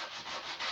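Sandpaper rubbed by hand across an old timber table gives a dense, scratchy hiss in close, repeated strokes, rising and falling with each pass, with no other sound present.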